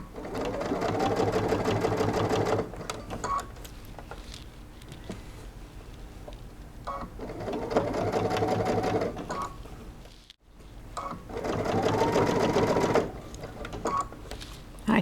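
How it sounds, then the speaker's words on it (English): A sewing machine top stitching fabric for a bucket hat runs in three loud, steady whirring bursts separated by quieter pauses of fabric handling. "I top stitched about 1/8 of an inch from the edge"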